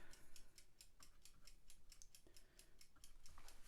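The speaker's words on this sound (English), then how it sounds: "It's kind of fun, this new timer." Painting timer ticking steadily at a fast, even rhythm, crisp clicks repeating several times a second, fairly quiet and close with faint room noise and no speech.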